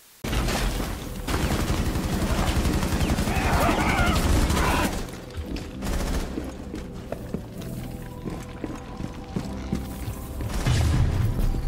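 Rapid gunfire in the video game Rainbow Six Siege during the Containment event, dense bursts for several seconds followed by scattered shots and game noises, with talk over parts of it.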